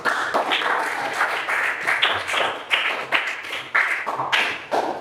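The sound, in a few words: class of children clapping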